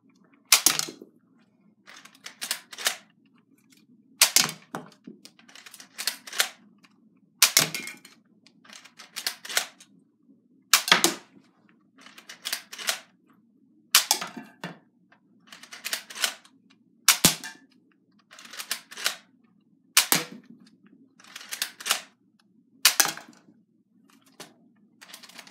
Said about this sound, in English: And now I'll begin the shooting.